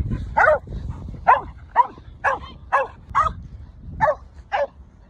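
A border collie barks in a series of about nine sharp, separate woofs with a few yips mixed in, reacting to another dog nearby, close and fairly loud against a low background rumble.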